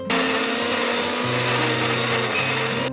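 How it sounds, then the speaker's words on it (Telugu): A kitchen mixer grinder blends ridge gourd peel with carom seeds and green chilies, giving a loud, steady whirring motor drone with a pitch shift midway and then stopping abruptly at the end. "ఇప్పుడు దీంట్లోనే ఇంకోసారి బీరపొట్టుని వేసేసి మొత్తంగా ఒకసారి మళ్ళీ మిక్సీ వేయాలి"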